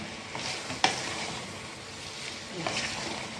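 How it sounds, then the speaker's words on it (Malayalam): Curry leaves dropped into a frying Chinese potato (koorka) curry, a soft steady sizzle with a sharp crackle burst near the start and another toward the end, faint and close, under light talk. "ഇനി ഇതിൻ്റെ മുകളിലോട്ട് നമുക്ക് ഇച്ചിരി കറിവേപ്പിലയും കൂടി ഇടാം"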